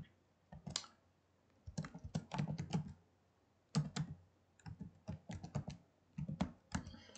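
Typing on a computer keyboard during AutoCAD VBA coding work. Crisp, close key clicks come in quick bursts separated by short pauses, with no talking.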